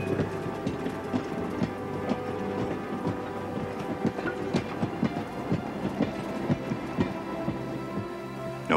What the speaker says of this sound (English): what happens when a light is switched on as Henry's train moves by